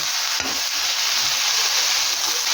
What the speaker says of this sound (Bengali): কলমি শাকটাকেও ভালো করে পেঁয়াজ আর রসুনের সাথে মিশিয়ে নেব